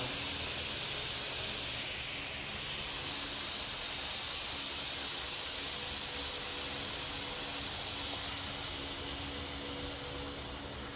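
Air hisses steadily through a manual-fill Schrader valve on the air suspension of a 1949 Chevy, a loud continuous rush that holds for the whole stretch and eases slightly at the end.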